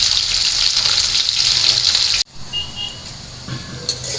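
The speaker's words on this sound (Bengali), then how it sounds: "তো আমি ইলিশ মাছটা ভেজে নিই হালকা করে।" Hilsa fish frying lightly in oil in a pan, a steady loud sizzle that cuts off abruptly midway and returns as a softer crackle with small bubbling pops, no talking.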